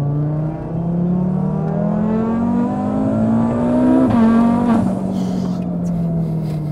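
An 800 hp Audi RS3 on a dyno rolling run, still running without its large turbo engaged, revs with a loud, steady engine drone that climbs gradually in pitch, dips briefly, then holds a high rev, alone with no voices.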